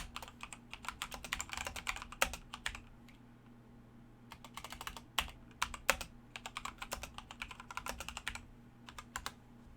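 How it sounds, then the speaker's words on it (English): Rapid clacking of a mechanical keyboard, bursts of keystrokes with short pauses, close and fairly loud over a low steady hum. "I know my keyboard's loud"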